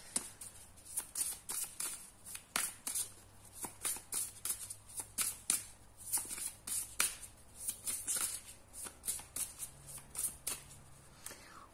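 Tarot cards are shuffled over and over, producing a steady run of quick, crisp riffling bursts, close and fairly soft, with no talking.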